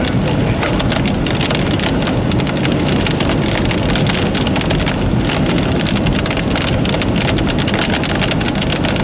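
Hail and rain pour down during a Texas storm with an isolated tornado threat, a dense, steady hiss of pelting drops and hard patter that continues without a break, loud and close throughout.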